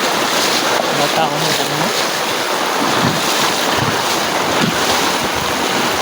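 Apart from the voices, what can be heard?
rushing floodwater after heavy rain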